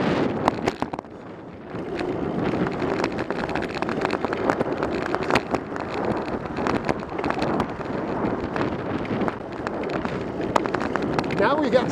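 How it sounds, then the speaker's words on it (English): Wind buffeting the microphone while cycling through Alameda toward Oakland, a steady broadband rush with gusty bumps throughout, loud and close, with intermittent clicks and rattles from the ride. "Now we got some wind again."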